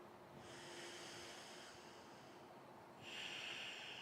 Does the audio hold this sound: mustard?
no